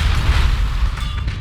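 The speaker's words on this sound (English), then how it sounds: "Look at that explosion." A spaceship explodes in the Battlefleet Gothic: Armada 2 space combat game, a loud deep rumbling boom that rolls on steadily for about a second and a half without any speech.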